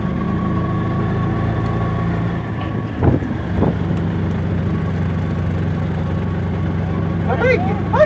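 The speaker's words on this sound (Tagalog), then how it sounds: "Grabe, tinutulak tayo ng hangin." Strong wind buffets the microphone in a steady roar over a low tuk-tuk engine hum on a mountain trail, with brief gusty bursts and faint voices near the end.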